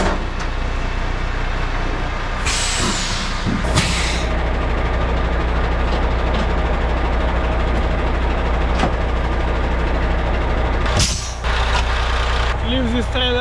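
A European semi truck idles loudly nearby during fifth-wheel disconnection, with a couple of sharp hissing air-brake releases over the steady engine rumble.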